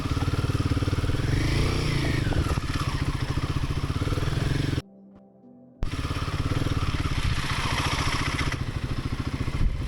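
A Royal Enfield Himalayan 450 motorcycle rides slowly through roadwork on a highway, its engine droning steadily and close with wind rush. The engine cuts out for about a second mid-ride, then resumes just as strongly.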